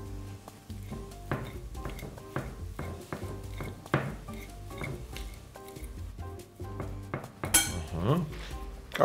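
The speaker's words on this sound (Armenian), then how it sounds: "խաշած ձուներ կտրորեմ" Knife and cutlery clinking against a plate while boiled eggs are cut for a bird's nest breakfast, a steady run of close taps and scrapes with a louder clatter near the end.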